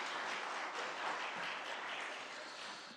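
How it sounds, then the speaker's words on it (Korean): A church congregation applauds the choir after a hymn, a steady, moderately distant wash of clapping that holds evenly and tapers off at the end. "우리 다시 한번 박수로 격려해 주시면 감사하겠습니다"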